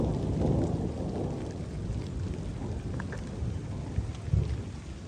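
Heavy rain falls on a village in Punjab with thunder rumbling low beneath it, a constant wash of rain and a few sharper drips and knocks close by.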